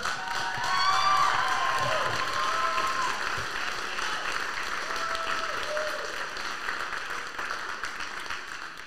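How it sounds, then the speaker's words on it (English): Sustained applause from a high school concert audience honoring senior choir members, a dense steady wash of clapping with some cheering, loudest near the start and easing slightly, with faint voices underneath. "Let's give them all a round of applause."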